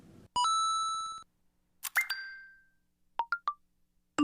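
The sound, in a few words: smartphone notification sounds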